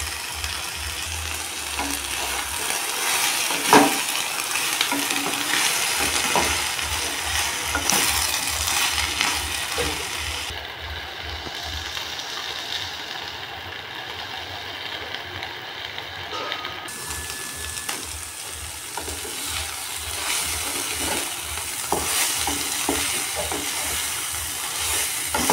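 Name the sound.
frying and stirring cut elephant foot yam in spice paste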